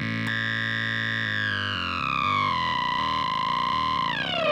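A Metasonix R-54 synth module with its harsh feedback control cranked drones loudly, a buzzing, distorted tone whose pitch slides and steps downward with gritty warbling before sweeping away at the end.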